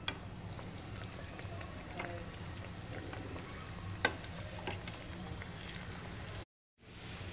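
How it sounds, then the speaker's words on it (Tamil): Chicken nuggets fry in hot oil with a steady close sizzle and crackle, spattering pops scattered throughout, dropping out briefly near the end before resuming. "இப்போ வந்து எண்ணெயில் பொரிச்சிடலாம். இப்போ எண்ணெய் காஞ்சிருச்சு."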